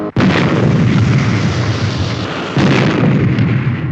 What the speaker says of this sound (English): Interlock on both engines. Fire both.